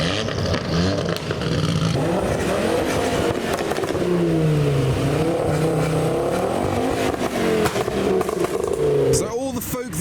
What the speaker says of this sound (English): Very noisy S15.